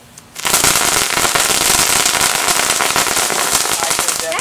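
Fireworks burst into a dense, continuous crackle after a brief quiet start, loud and close, with a person talking faintly underneath.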